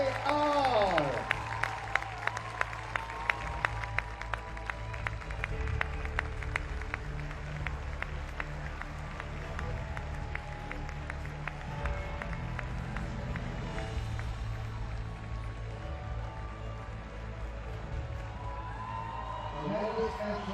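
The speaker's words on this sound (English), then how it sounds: "One more round of applause." A crowd at a men's bouldering final in Prague applauds the athletes with steady, sustained clapping and some cheering that holds throughout, while an announcer's voice sounds over the arena mix.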